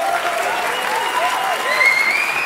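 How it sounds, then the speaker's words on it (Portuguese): A comedy show audience breaks into applause, a steady, full clapping crowd close by with a few whoops and voices riding over it throughout. "Uma salva de palmas, senhoras e senhores"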